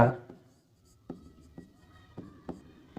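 Chalk tapping and scraping on a board as a teacher writes during a class, a few faint, spaced strokes in a quiet room.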